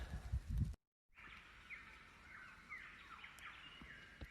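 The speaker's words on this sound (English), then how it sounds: "just listen to these birds." Birds sing in a quiet outdoor setting, with several faint chirps and trills carrying over soft background noise after a brief low thump.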